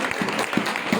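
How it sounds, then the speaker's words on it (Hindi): A church congregation claps during a worship service, a steady dense patter of many hands filling the short moment. "यीशु मसीह के लिए ताली बजाएं"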